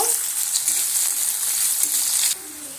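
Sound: sliced onions frying in hot oil

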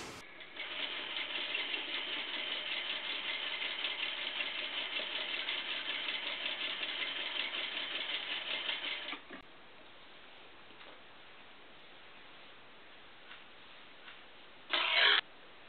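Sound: sewing machine stitching across lining

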